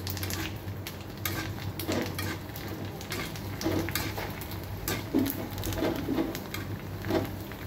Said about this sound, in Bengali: এখন ফুচকাগুলো দিয়ে দেব। অনেকগুলো দেয়া যাবে না, অল্প অল্প করে আস্তে আস্তে ভেজে নিতে হবে।